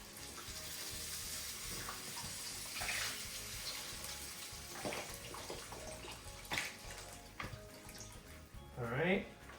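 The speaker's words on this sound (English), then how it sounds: "We are going to add 4 cups of chicken stock." Chicken stock pours steadily into a paella pan of sausage, chicken and saffron water, giving a continuous close splashing stream with a few clinks and a rising trickle at the end.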